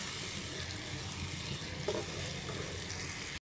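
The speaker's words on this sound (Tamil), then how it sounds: "இந்த எண்ணெயிலேயே இந்த தக்காளியை நல்லா வதக்குங்க." Ground tomato paste frying in oil for an anchovy fish curry, a quiet, even sizzling hiss with one brief stirring bump midway, cutting off abruptly just before the end, no talking.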